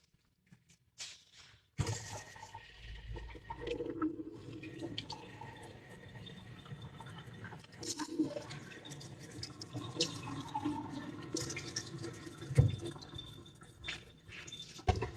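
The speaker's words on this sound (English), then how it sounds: "I'm spinning water in it to clean it now." Water sloshing and swirling inside a container as it is spun to rinse it clean, a steady wet churning with a few sharper splashes, close and moderately loud, no talk.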